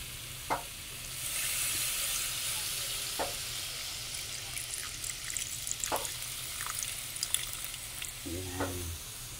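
Pork neck Bicol Express sizzles and bubbles steadily in a pan as the second pressing of coconut milk goes in, with a few soft stirring scrapes and a brief murmur of voice near the end.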